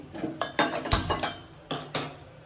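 A metal kadai set down on a home kitchen stove, with a series of sharp clanks and knocks, one heavier thud among them, close and alone without speech.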